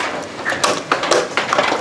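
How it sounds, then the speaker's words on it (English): Hailstones striking outdoors during a hailstorm, scattered irregular taps and thuds landing at uneven intervals, fairly close and moderately loud, with no talking. "Look at this hail out here."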